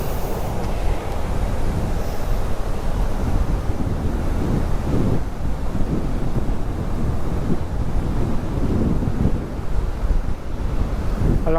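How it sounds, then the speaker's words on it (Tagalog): Strong wind sweeping across a beach campsite in Gubat, Sorsogon, a continuous heavy roar with gusting rumble and surf-like wash, loud and unbroken throughout. "Dito kasi malakas yung hangin talaga."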